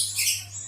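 A buffalo myna gives one brief, harsh, close squawk that is hoarse and breathy rather than tuneful, set against a low steady hum.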